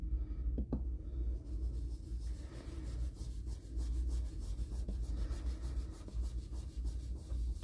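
A blending brush is rubbed in steady circles over a stencil, working ink into the middle, giving a close, continuous soft scrubbing texture with no talk.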